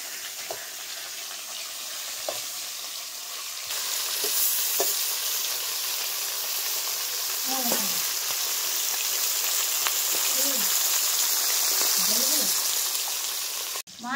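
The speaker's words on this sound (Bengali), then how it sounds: "মাছ 1 পিঠ ভাজা হয়ে গেছে" Sitapati fish frying in a pan, a steady hiss of hot oil running throughout with a few soft stirring clinks and scrapes, close and moderately loud.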